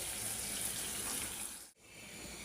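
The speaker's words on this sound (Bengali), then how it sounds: "আলু দেওয়ার পরে একটু গরম পানি করে দিয়ে দেবো" Hot water is poured into a pot of beef curry with potatoes, making a faint, steady rush of liquid that breaks off briefly near the end and then resumes.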